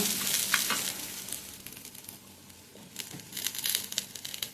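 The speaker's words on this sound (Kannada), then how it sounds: "ಒಂದೆರಡು ಟೊಮೆಟೊ ಕೂಡ ಹಾಕ್ತೀವಿ ನಾವು ಸ್ವಲ್ಪ ನೋಡಿ ಸ್ವಲ್ಪ ಫ್ರೈ ಮಾಡುವ" Tomatoes fry for a Mangalore-style egg curry with a soft, crackling sizzle, quiet and close. Bursts of spattering and stirring come at the start and again near the end.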